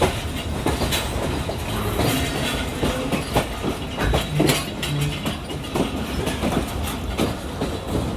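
A Pakistan Railways passenger train rolling along the rails on the Lahore-to-Karachi route, with steady clickety-clack from the wheels, loud and close, and carriage rattle throughout with no talk.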